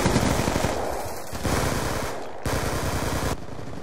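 Video game gunfire rattles out in rapid automatic bursts, loud and close, with brief pauses between volleys and no talking.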